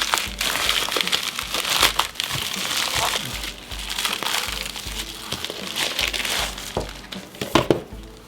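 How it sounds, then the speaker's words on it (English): Plastic wrapping on a Far Cry 6 Ultimate Edition PS5 steelbook case is torn and peeled away with sharp crinkling and crackling bursts, up close. Short tugs are followed by pauses over several seconds. "So let's open it up. Let's tear it open."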